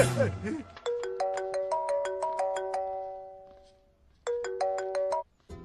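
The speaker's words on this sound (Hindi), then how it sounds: "आपको किसी का फोन आ रहा है।" A phone ringtone plays a repeating melodic phrase of bright, bell-like tones, loud and close, running for several seconds, pausing briefly, then starting again, with a short burst of speech just before it begins.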